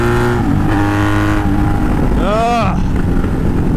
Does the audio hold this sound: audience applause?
no